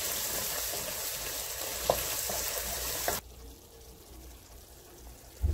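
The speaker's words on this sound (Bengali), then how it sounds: "এখন আমি এটাকে একটু কষাই নেব, কিছুক্ষণ কষাই নেব।" Black pepper and green cardamom being sautéed in a pan for beef liver with chana dal, a moderate frying sizzle with a few stirring clicks that drops abruptly to a quieter hiss partway through.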